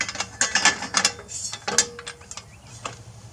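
A ratchet clicks in quick bursts while tightening a nut on a Kindorf strut hitch built to pull a tiller, close and crisp, with short pauses between strokes and no talk.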